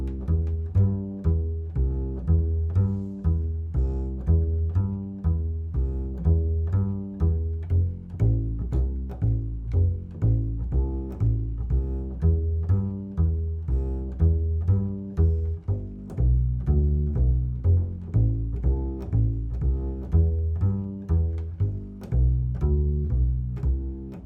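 Walking blues bass line built only on triads, steady plucked low notes in an even four-to-the-bar pulse, loud and close, played alone for the whole stretch.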